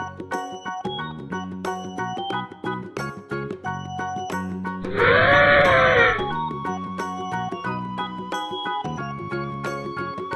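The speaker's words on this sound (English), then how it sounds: "Elephant." An elephant gives a single loud, brassy trumpet blast lasting about a second, rising above upbeat children's music that plays throughout.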